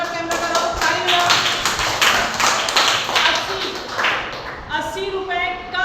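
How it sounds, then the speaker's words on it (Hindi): Children in a Class 3 classroom clap their hands in a dense, steady burst of many close, overlapping claps lasting several seconds, with children's voices calling out over it. "अनिल की तरफ कैमरा करो, ताली बजाओ।"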